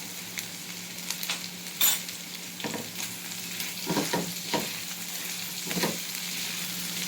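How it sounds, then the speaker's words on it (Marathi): Diced potatoes for sabudana khichdi sautéing in a pan over low heat, with a soft continuous sizzle broken by repeated scraping stirs of a spoon against the pan. "थोडा स्लो गॅसवर ना बटाटा थोडा हलका परतून घेऊया आपण"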